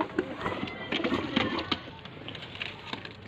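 Pigeons being released one after another in Sialkot, with soft cooing and flapping wing bursts carrying over an outdoor ambience; the sounds are irregular, close and moderately loud, and no one speaks.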